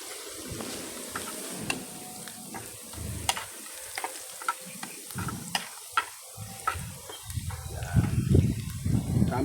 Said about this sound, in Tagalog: Gigisa na tayo para sa ating egg ng itik with tuna.